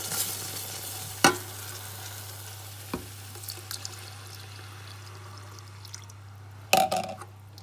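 Milk is poured little by little into a hot pan with turkey cooking, producing a soft sizzle under a low steady hum, with occasional clanks and a brief scraping stir near the end.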